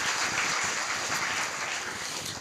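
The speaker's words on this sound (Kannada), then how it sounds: "ಜೋರಾದ ಚಪ್ಪಾಳೆ ತಟ್ರಿ." A crowd claps loudly and continuously at a religious discourse in Uppina Betageri, a dense, steady wash of applause that stays strong for the whole stretch with no voices on top.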